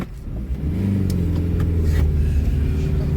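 A car engine hums steadily from inside a moving vehicle, a 2008 Chery Amulet, with a low continuous rumble that swells slightly as it accelerates, loud and close, without talk.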